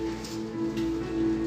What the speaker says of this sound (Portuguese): chovendo aqui